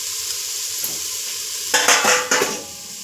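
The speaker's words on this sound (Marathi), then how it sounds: "तांदूळ 1 मिनिट परतायचं." Rice sautéed in masala in a pan gives a steady sizzling fry, then two louder bursts of stirring and scraping against the pan near the end, with no voices.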